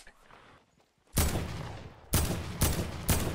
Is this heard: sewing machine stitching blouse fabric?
no